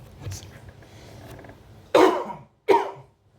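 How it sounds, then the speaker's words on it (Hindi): Two loud, harsh coughs close to the microphone, coming one after the other after a stretch of quiet murmuring. "अब खांसी होना तो प्राकृतिक चीज़ है"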